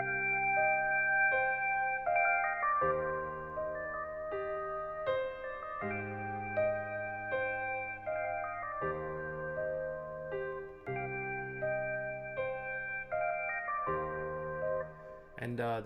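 Synth melody played on a preset in the Dune software synthesizer, a stepping pattern of clean sustained tones with echoing tails running for about sixteen seconds at moderate volume, with no voices over it.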